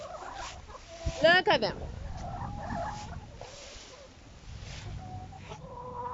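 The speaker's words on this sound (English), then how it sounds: "I am gonna go feed my chickens." Farm chickens cluck and squawk close by during winter flooding, with scattered calls over a steady background while a person talks over them.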